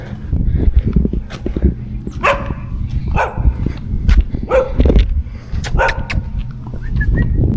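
A loose dog off its leash barks in short, repeated bursts on a Dunedin, Florida street. The barks come fairly close over low rumbling background noise.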